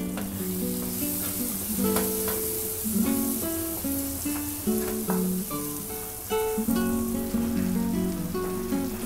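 Tomatoes and masala frying in a pan for Uttarakhand-style pahadi dal tadka, a loud, close, steady sizzle and crackle with intermittent stirring scrapes, no voices.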